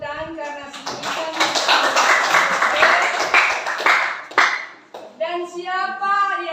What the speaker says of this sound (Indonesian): kita tepuk tangan karena signifikan